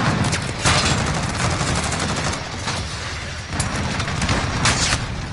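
Desert Eagle pistol shots ring out in a first-person shooter video game, a dense run of loud, sharp reports with several distinct bangs over continuous noisy game action.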